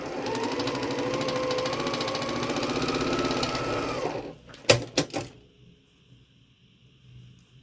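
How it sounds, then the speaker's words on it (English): A sewing machine stitches quilt block units together into a nine-patch style Jacob's Ladder block, running in a steady close whir for about four seconds, then a few sharp clicks and handling taps before falling quiet. "So you're just sewing this together like a 9 patch."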